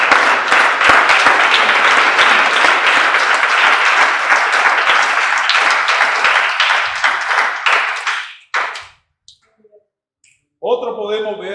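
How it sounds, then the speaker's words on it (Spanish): Church congregation giving a sustained round of applause during a morning worship service, dense loud clapping for about eight seconds that fades out, then brief silence before a voice begins speaking. "Ya les ofrenda de palmas a Dios en esta mañana."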